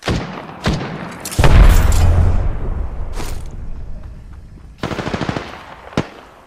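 Bursts of automatic gunfire and heavy weapon blasts in the Apex Legends battle royale shooter, loud and close, with sharp impacts, a sustained rattling barrage and further short volleys.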